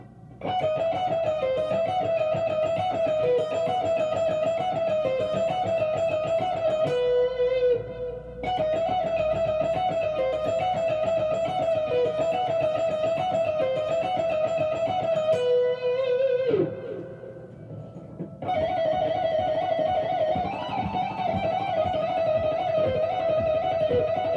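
A slow electric guitar lick picks out notes one by one in a repeating descending run down the second string, played alone with a brief gap between passes.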